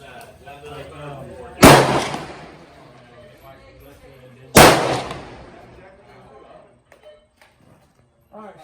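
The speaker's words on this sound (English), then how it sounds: "He's gonna be the first shooter on the 338 Lapua." Two heavy booming shots from a .338 Lapua rifle at an outdoor gun range, a few seconds apart, each loud and sharp with a short rumbling tail, with people talking quietly in the background.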